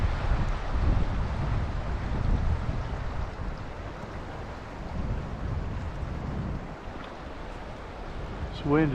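Steady wind gusting across open water during a fly-fishing outing, a continuous broad rush that swells and eases over several seconds, with a faint thin whistle near the end.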